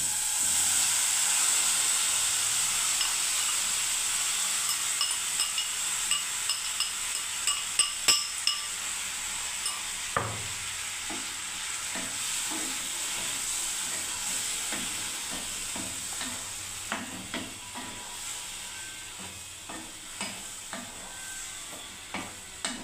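Vegetables cook without oil in a hot pan, a steady soft hiss of sizzling and steam broken by a long series of sharp metallic clinks and scrapes as a spatula stirs them.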